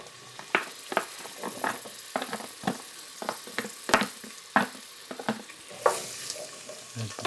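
Onions and green peppers frying in a pan for a Portuguese fish stew, with crackling sizzle and repeated sharp scraping stirs that come in irregular bursts close by.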